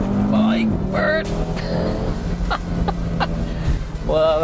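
An Audi RS3 Stage One with 475 bhp pulls hard uphill, its engine note rising and swelling beneath someone talking over it throughout.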